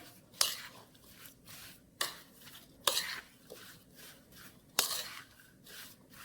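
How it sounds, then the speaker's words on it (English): Peach cobbler ingredients with lemon juice are mixed together in a bowl, heard as faint stirring with a few sharp utensil clinks against the dish at irregular intervals. "Gonna mix them all together really well."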